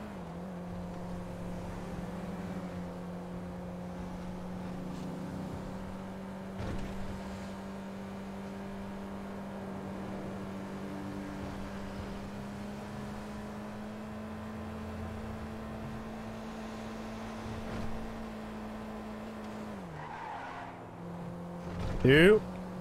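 Car engine in Grand Theft Auto V hums at a steady, droning pitch for a long stretch, dips briefly near the end, then ends with a short louder burst.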